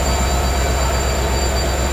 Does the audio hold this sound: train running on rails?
yes